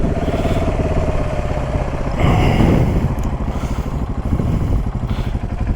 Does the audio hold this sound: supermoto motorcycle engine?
yes